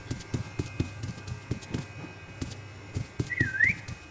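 Rhythmic thudding footsteps in a video game repeat steadily, then near the end a short, clear whistle slides down and back up.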